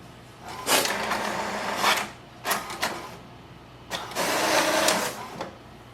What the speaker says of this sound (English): So just wait for the printer to print first.